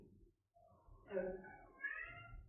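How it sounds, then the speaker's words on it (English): A cat gives a drawn-out, rising meow at close range, quiet overall, with faint low background rumble. "He's gonna meow again. He's been meowing all morning."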